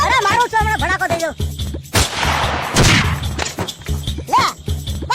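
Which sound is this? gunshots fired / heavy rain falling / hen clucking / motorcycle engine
gunshots fired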